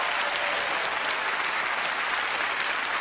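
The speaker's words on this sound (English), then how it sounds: "Give her a huge round of applause, please." A studio audience at the magic show Penn & Teller: Fool Us breaks into dense, steady applause that holds at an even level for three seconds, with no pause or voice.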